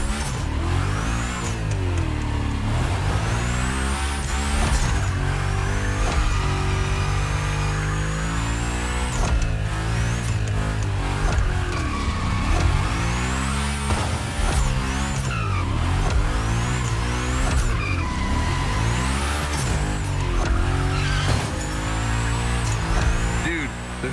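A Hoonigan gymkhana car in The Crew Motorfest racing game screams continuously through a loud engine with rising and falling revs and frequent gear shifts for the whole stretch, steady and close throughout.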